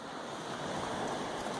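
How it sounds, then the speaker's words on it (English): Ocean surf at North Jetty near Eureka, a steady broadband wash of breaking waves with some wind across the microphone, constant and fairly loud throughout with no speech. "And of course, more ocean."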